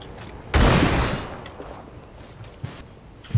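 A grenade explodes indoors in Rainbow Six Siege, a sudden loud blast with a long rumbling decay, followed by a few faint clicks and a sharp pop near the end.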